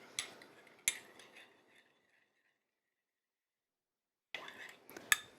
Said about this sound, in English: Mix this up with a spoon